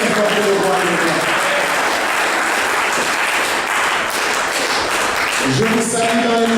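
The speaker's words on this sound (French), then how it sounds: "Est-ce qu'on peut encore acclamer le Seigneur pour le roi de gloire?" A church congregation applauds and cheers for the Lord, loud sustained clapping and crowd noise throughout, with tonal voices or music rising near the start and again toward the end.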